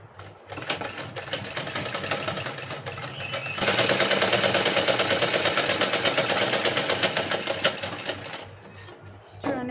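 A sewing machine stitches the lining hem of a blouse, a rapid steady mechanical whir with a rhythmic needle clatter that starts, speeds up for several seconds, then slows and stops.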